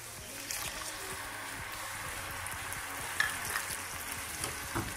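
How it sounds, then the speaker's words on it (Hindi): A masala of tomato paste fries in a pan for a kadhi pakora curry, sizzling steadily up close while being stirred, with occasional soft scrapes and no talking. "अभी हम इस मसाले को दो से तीन मिनट के लिए भूनेंगे"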